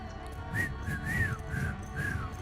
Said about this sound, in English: I can whistle that tune all day and not get bored.